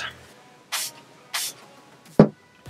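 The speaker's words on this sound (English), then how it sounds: "I'm going to spray my brush with the Milani Make It" Milani Make It Last setting spray mists onto a MAC 242 makeup brush in two short, close hisses, followed by a brief soft tap.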